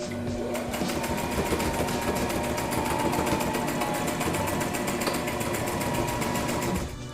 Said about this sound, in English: as I'm sewing along